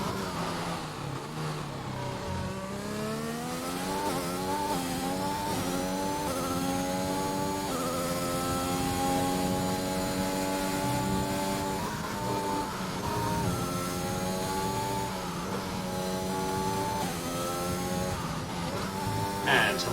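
A race car engine in a racing game revs and climbs through the gears, a loud continuous whine whose pitch rises and falls over twenty seconds beneath commentary.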